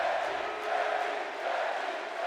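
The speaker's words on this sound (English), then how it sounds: "As you hear the crowd here tonight, they are all behind Becky Lynch here tonight" Video game arena crowd in WWE 2K24 during a Becky Lynch versus Trish Stratus championship match, a steady, dense roar of cheering voices filling the whole span without a break.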